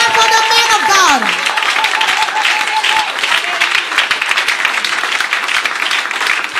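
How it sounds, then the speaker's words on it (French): A church congregation gives the pastor a sustained burst of loud, dense applause, lasting several seconds, with a voice speaking at the start and scattered chuckles in the crowd. "Clap for the man of God."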